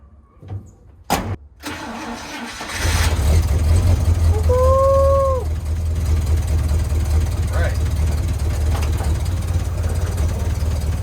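A 1972 International Scout II engine cranks with a few sharp bursts, then catches and settles into a steady, loud idle close by, with a brief tonal squeal partway through and talk nearby.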